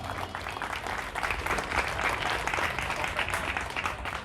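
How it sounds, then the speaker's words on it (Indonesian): An audience claps for Nahdlatul Atfal during an Indonesian religious gathering, a steady, moderately distant wash of many hands lasting a few seconds at low volume. "Tepuk tangan untuk Nahdlatul Atfal"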